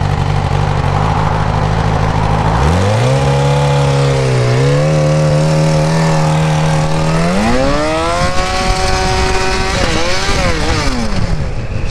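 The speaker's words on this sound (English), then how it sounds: "My bike is rev limiting for no reason." A Suzuki GSX-R 600 motorcycle with a suspected slipping clutch revs hard and loud and close, its engine pitch climbing in steps and holding near the rev limiter before falling back.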